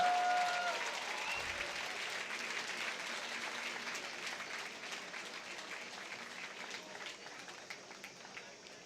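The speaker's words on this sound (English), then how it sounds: "Let's give them a round of applause" A large outdoor crowd at an Independence Day celebration applauds a marching contingent, dense continuous clapping that starts loud and stays full and even throughout, with faint voices mixed beneath.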